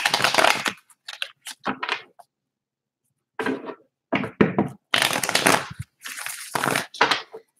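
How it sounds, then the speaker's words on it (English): Tarot cards shuffled by hand in several separate bursts of crisp, riffling card noise, with short silent pauses between them, close and fairly loud and without talk. "2 more shuffles"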